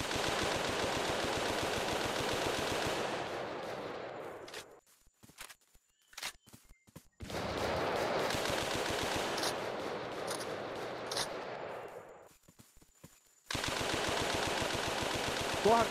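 Rapid automatic gunfire from a video game shooter rattles loudly in long sustained bursts, stopping twice for quiet stretches with scattered single shots before resuming, with no talk over it.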